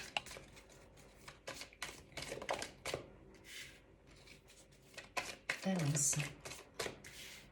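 Tarot cards shuffled by hand before a reading, a run of soft rapid riffling clicks and flutters in bursts under a woman's French speech.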